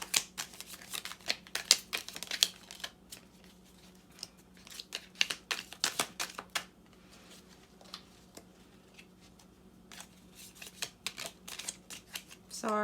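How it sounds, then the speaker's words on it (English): Stiff tarot cards being shuffled in irregular bursts of crisp riffling and slapping, close up, with short pauses between. "These are so hard to shuffle."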